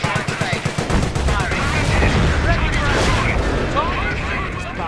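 A 25-pounder artillery barrage in Company of Heroes, during a WWII battle at Hill 112 near Caen: a rapid series of loud cracking volleys gives way to a continuous roaring, rumbling wash of explosions, with battlefield voices mixed in.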